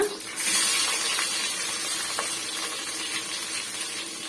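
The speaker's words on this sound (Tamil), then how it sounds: "நம்ம கட் பண்ணி வச்சிருக்க பச்சை மிளகாய் சேர்த்துக்கலாம் வெங்காயம் சேர்த்துக்கலாங்க" Green chillies and onions sizzling in a hot pan for vegetable biryani, a steady close hiss and crackle that continues throughout.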